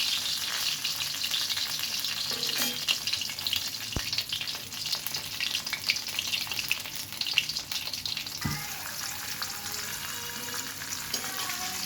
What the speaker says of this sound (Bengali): এই যে অনেক সুন্দর করে ভেজে নিচ্ছি